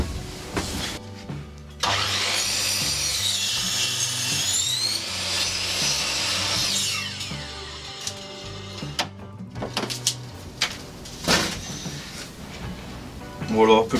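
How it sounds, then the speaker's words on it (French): A miter saw cuts a piece of wood for a wood-lathe project. The motor whines up loudly and runs through the cut for about five seconds, then spins down, followed by scattered knocks and handling noises. "je vais faire ça à la scie à onglet."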